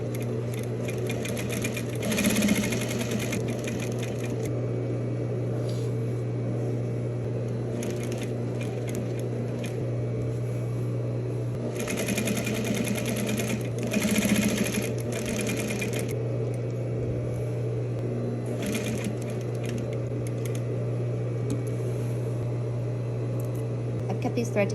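A sewing machine topstitches a welt pocket, a steady low mechanical hum running throughout with a few louder rattling stitching bursts, while a person talks over it.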